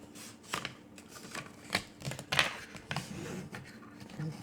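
Paper being folded by hand into a gift box, with soft creasing, rustling and tapping sounds in uneven bursts, close and fairly quiet.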